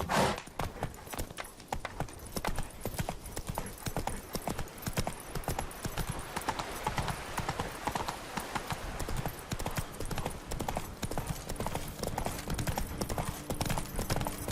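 A horse gallops in The Witcher 3: Blood and Wine through the Toussaint countryside. A loud, continuous clip-clop of hooves rolls on without a break.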